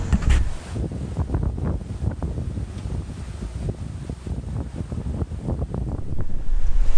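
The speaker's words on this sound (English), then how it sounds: "We got a nice breeze, 15 knots of breeze out of the west, southwest." A sailboat at sea in a fifteen-knot west-southwest breeze on a crossing to Corsica, with steady blustery wind rumbling against the microphone over sloshing water, loud and continuous with no talking.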